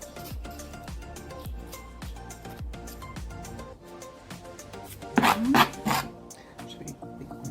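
A knife chops onions into small pieces on a board, giving a steady rhythm of crisp close taps, then a brief louder scraping rustle near the end.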